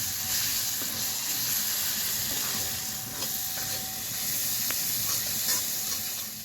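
Ginger, garlic and chili paste sizzling in hot oil with Kashmiri chili and turmeric powder while frying masala for Bengali aloo dum with small new potatoes; a steady, close, dense hiss runs throughout with no talk.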